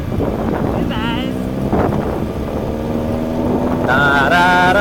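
A scooter ridden gently through Bangkok streets, with heavy wind buffeting the microphone throughout and the engine's tone rising and falling as it accelerates modestly.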